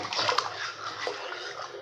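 Water from rinsing a mixer grinder jar pours into a cooking pot for chicken kuzhambu, a steady close splashing rush lasting a couple of seconds with no talk.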